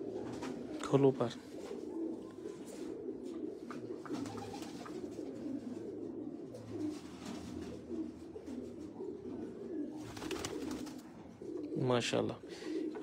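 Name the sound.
pigeons cooing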